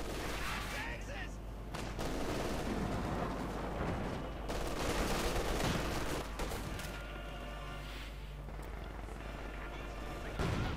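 Gunfire in the strategy game Company of Heroes 2: distant scattered shots and rattling bursts with booming impacts under steady battle noise, with a voice talking over it.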